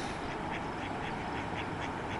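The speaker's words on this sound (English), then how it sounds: "something's going on here with the ducks." Ducks quack in a steady series of roughly evenly spaced calls near a beaver pond, set against a constant outdoor background hiss at moderate level.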